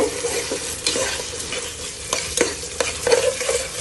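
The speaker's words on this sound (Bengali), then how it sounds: "এখন আমি একটু লাড়াচাড়া দিব।" A spoon stirs halim in a pot with a soft scraping, sizzling texture, a few louder knocks and scrapes against the pot sides over steady low frying noise, close and moderately quiet.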